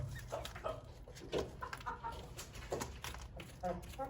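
Brahma chickens cluck and murmur softly nearby in short, irregular bursts, with faint rustling between.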